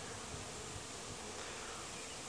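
Honey bees drone and hum in a dense, steady buzz around their hive, a continuous insect hum filling the air with no pauses.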